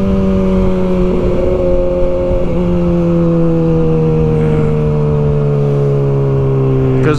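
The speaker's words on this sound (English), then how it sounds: "Doing a Wheelie show for the bystanders" Loud engine of a vehicle doing wheelies for bystanders in a small town, revving steadily then gradually dropping in pitch over several seconds, alone without talk.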